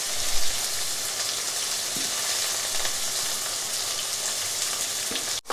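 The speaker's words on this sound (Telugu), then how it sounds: "దీన్ని బ్రౌన్ కలర్ వచ్చే వరకు ఫ్రై చేయాలి." Chopped onions, curry leaves and coriander fry in a pan for a simple chicken curry, giving a loud, continuous close-up sizzle with faint stirring and a brief clunk near the end.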